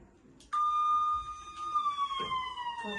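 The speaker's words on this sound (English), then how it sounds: "Ambulance." An ambulance siren sounds in a sustained high wailing tone that starts abruptly, holds, then slowly drifts downward, fairly near and clear, with faint background noise and no talk over it.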